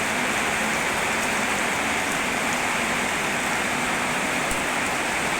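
Heavy rain falling steadily after several dry, hot days, with a dense, continuous hiss of water and scattered close drops. It is loud and even throughout, with no talk.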